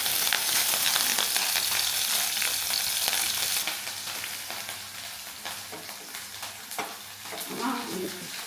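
Mustard seeds, four green chilies, garlic cloves and a piece of ginger fry in hot oil with a loud, continuous close sizzle, easing slightly midway, with stirring scrapes and brief crackles.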